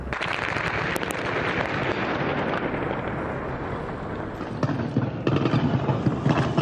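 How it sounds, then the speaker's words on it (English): Gunfire and explosions in a war zone, with dense crackling bursts of shots and sharp bangs over a continuous rumbling background, some reports near and others more distant. "Explosions and gunfire, a face-off across the bridge."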